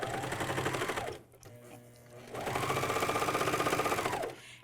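A MyLock 454D serger stitches a 5/8-inch neckband seam on a pajama top in two steady whirring bursts, a brief pause between them, close and loud with no talk.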